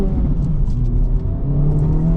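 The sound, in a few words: 2024 Acura Integra Type S car engine while driving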